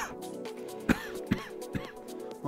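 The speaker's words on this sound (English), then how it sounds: "This nasty cough." Several short, raspy coughs break out one after another, close and fairly loud, spaced irregularly over a couple of seconds.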